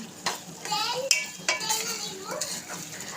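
Oil heats on a stove in a pot as part of a homemade oil preparation, giving a steady close sizzle and bubble, with the sharp clinks and scrapes of a utensil stirring against the metal pot.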